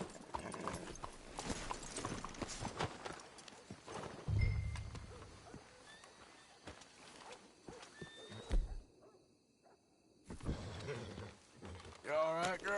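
Horse hooves clip-clop in Red Dead, a steady run of close hoof thuds under quiet talk, with a whinny-like snort, pausing near the end before hoofbeats and voices return.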